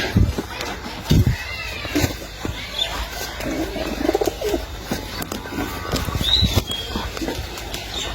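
Pigeons coo and flutter close by amid a busy outdoor setting, soft low coos mixed with wing flaps, scuffs and a few brief whistling tones, with voices talking in the background.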